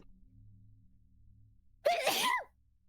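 A single sharp sneeze bursts out close by after a stretch of quiet low hum, with a brief intake before the loud, breathy release.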